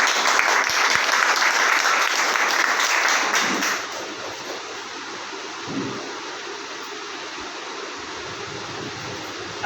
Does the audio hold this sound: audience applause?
yes